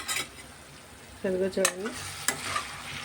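Chana dal and drumstick pieces fry in a pan with a low, steady sizzle and occasional stirring scrapes, while a voice speaks briefly partway through.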